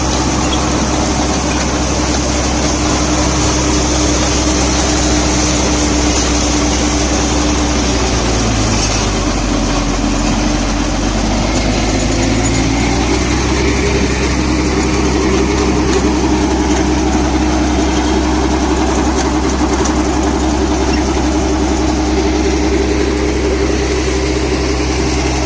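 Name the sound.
Mahindra Novo 605 DI tractor engine running PTO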